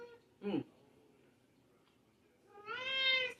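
A cat gives two meows, a short one then a longer drawn-out cry after a pause, fairly close and clear against a quiet room.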